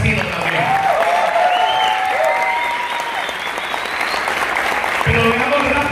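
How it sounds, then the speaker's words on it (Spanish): A crowd applauds the peasant movement at a Costa Rica political gathering with a loud, sustained burst of clapping and some cheering, while voices and whistle-like tones rise above it. "Y un aplauso para el movimiento campesino también."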